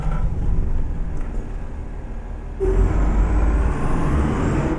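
A Volkswagen truck engine in Euro Truck Simulator 2 starts with an abrupt loud burst halfway through, then settles into a steady, dense rumble that stays near and constant after a quieter idle-like hum.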